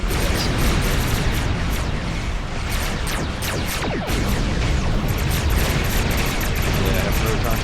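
Weapons fire in the space combat game Star Trek Online, with proton torpedoes launching amid a dense, continuous barrage of bursts and booms that stays loud throughout.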